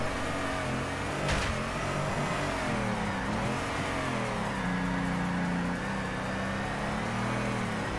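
A drift car's engine revs continuously in Torque Drift, the pitch rising and falling through gear changes, loud and close with no pauses.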